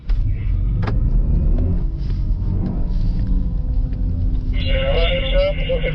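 A BMW i4 electric car accelerates on an autocross course, a low rumbling road and motor drone inside the cabin with a rising whine near the end, while a person talks over it.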